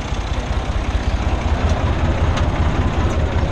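Ursus C360 tractor engine running close by, a rough, pulsing low chug that stays constant throughout with a broad noisy wash over it and no voices.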